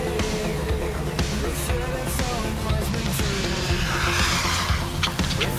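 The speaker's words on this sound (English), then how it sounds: "See that auto brake lockup thing it does." A Rlaarlo X12s RC car locks its brakes and skids, a gritty scrub of tires mixed with whining motor noise and scattered clicks, heard close and fairly loud throughout.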